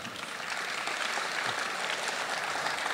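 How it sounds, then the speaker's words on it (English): Film festival audience at a Q&A applauding steadily, a dense, even wash of clapping held at full strength throughout. "Give yourselves a round of applause."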